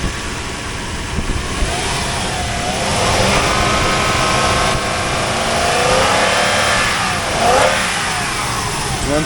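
A 2000 Toyota Land Cruiser with about 400,000 miles runs loud and close, its engine rising and falling in a few gentle revs over a steady rumble, with no voices.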